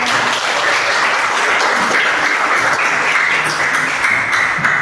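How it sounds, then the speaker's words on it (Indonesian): A vocational high school maths class applauding the student groups who presented, many hands clapping in a dense, even roar that carries on steadily throughout. "kita berikan tepuk tangan"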